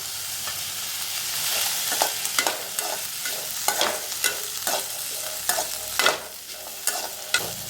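Grated coconut sautéing in a pan with tomato for a Vanjaram fish curry: a close, steady sizzle broken by repeated scraping stirs, with no voices.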